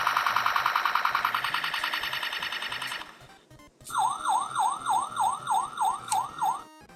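A Takara Henkei Onslaught transforming robot toy plays its electronic sound effects at close range: a rapid pulsing alarm-like warble for about three seconds, a short pause, then a repeating rising-and-falling siren wail.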